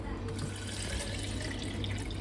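Water runs from a tap while its pressure is checked, a steady, close rush of flow that continues without a break from start to finish.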